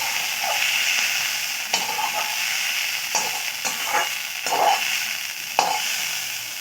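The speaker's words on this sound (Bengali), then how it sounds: "পেঁয়াজ পাতাগুলোকে খুব ভালো করে ভেজে নিয়েছি" Spring onion greens sizzle steadily in a hot wok, with repeated scraping stirs of a spatula against the metal breaking through the frying hiss at irregular intervals, close and without talk.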